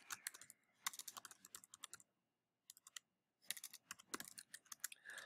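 Rapid typing on a computer keyboard while entering speaker notes, with dense bursts of crisp key clicks, a short pause in the middle, then more quick keystrokes, close up and with no talk.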